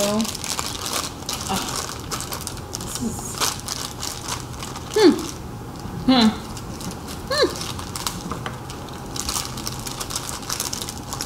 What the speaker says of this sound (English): Oh, I'm ripping.